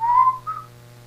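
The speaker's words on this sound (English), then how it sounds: "can you whistle the theme song from the Andy Griffith Show?" A short whistled phrase of the Andy Griffith Show theme, two clear rising-and-falling notes over about half a second, close and fairly soft, followed by quiet hum.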